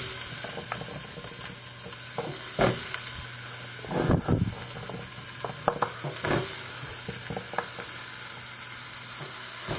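Pumpkin goes into a pan and is stirred, giving a steady soft sizzle of frying under clattering scrapes and knocks from the spoon against the pan, with no voices.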